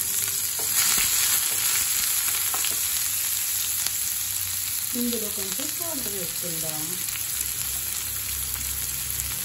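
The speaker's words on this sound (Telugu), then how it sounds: "ఆనియన్ గోల్డెన్ కలర్ వచ్చే వరకు వేయించుకున్నాం." Chopped onion sizzles steadily in a pan while frying to golden for a palak mushroom garlic curry, a continuous crackling hiss with occasional stirring, and someone speaks briefly over it midway.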